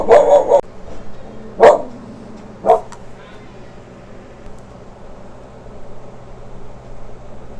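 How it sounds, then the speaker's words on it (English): Three sharp dog barks, the first a short burst and then two single barks spaced about a second apart, heard indoors at moderate distance during a makeup session, followed by quiet room tone. "You hear my dog?"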